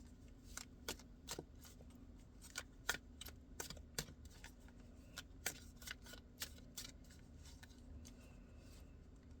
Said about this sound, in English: I shuffle these and move them around at least twice a week, once a week.